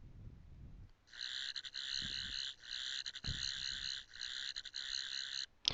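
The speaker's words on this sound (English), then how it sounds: "The sound of the broken, sonic screwdriver" A broken toy Doctor Who sonic screwdriver gives a shrill electronic warble in several pulsing bursts with short gaps, close and fairly quiet, with faint handling noise before it starts.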